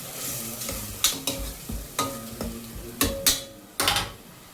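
Ginger, garlic and shallot paste frying in a pan while being stirred, with a steady sizzle broken by several sharp scraping strokes of a spoon against the pan, close and fairly loud, no talk.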